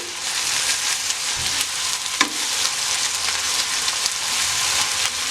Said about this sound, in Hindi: अब मैं इसके अंदर ऐड करूंगी 2 टेबलस्पून लहसुन, अदरक और ग्रीन चिली पेस्ट।